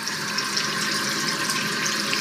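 Water pours steadily from a waterfall-style faucet with colour-changing lights, a close, continuous broadband rush into a sink with no pauses.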